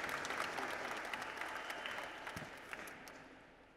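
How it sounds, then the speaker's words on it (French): A conference audience at Japan Expo applauds a pair of interpreters, a broad wash of clapping that gradually fades toward the end. "on applaudit nos deux interprètes magnifiques"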